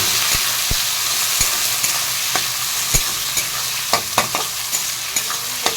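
Onions and tomatoes being stirred in a hot frying pan, with a spatula scraping and clicking in irregular strokes over a steady close sizzle of frying.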